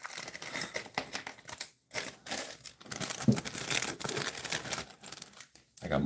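Plastic bags crinkling and rustling close up while prepping model car parts for painting, a busy continuous crackle with short pauses.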